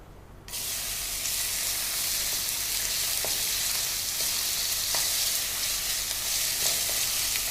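Onions hitting hot oil with star anise and cinnamon, bursting into a loud, steady sizzle and hiss with occasional small pops and stirring clicks, close up and without talk.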